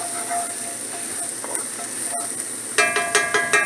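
Onions sautéing gently in a pan for Alfredo sauce, a soft steady sizzle that turns into a louder burst of crackling and clattering stirs near the end, close up with no voices.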